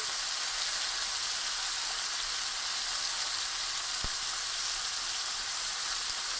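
A cod fillet cooking undisturbed in a pan makes a constant, fairly loud frying sizzle with dense crackle and a single sharp tick midway.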